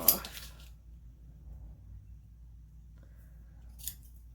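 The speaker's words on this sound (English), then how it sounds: "They're my sewing scissors, so I hate it if it's not fabric." Sewing scissors snip once sharply at the start, then again a few seconds later, with quiet rustling in between and no talking.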